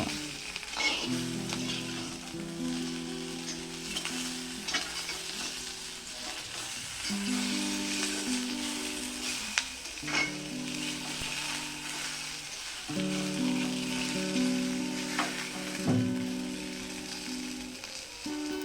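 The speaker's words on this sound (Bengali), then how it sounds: "এখানে দিয়ে দিচ্ছি একটি রুই মাছের মাথা আপনারা যে কোনো মাছের মাথা ব্যবহার করতে পারেন মাছের মাথার সঙ্গেও একটু ভেজে নেব" A rohu fish head frying with spices for a fish stew, giving a steady close sizzle throughout with occasional tonal background music, no talk.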